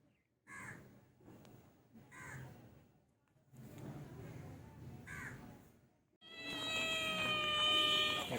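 Several cat meows come from a pet cat at home in short bursts, each separated by pauses, followed by a longer, louder, drawn-out meow near the end, close to the listener.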